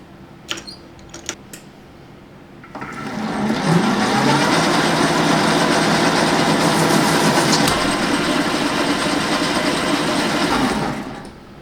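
Metal lathe cutting a screw thread without a thread dial indicator: a few clicks, then a steady, loud whirring run for about eight seconds that stops abruptly.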